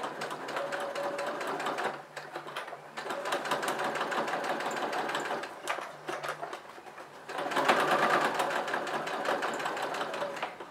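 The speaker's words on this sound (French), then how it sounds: "Donc vous faites bien attention de coudre assez droit parce que cette couture va se voir" A sewing machine stitching a fabric napkin holder runs in steady, fast whirring bursts, briefly pausing and slowing between stitching runs, close and alone.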